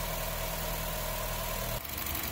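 A 2009 Honda Fit's engine idles steadily after a radiator replacement, an even mid-pitched hum with faint rhythmic pulsing, close and continuous, with a small shift in tone near the end.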